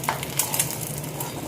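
Food frying in oil in a pan, with a steady soft sizzle and crackle and a few faint utensil stirs, all fairly close and with no talking.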